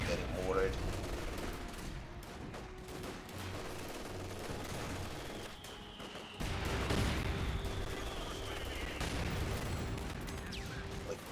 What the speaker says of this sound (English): I'm getting mortared.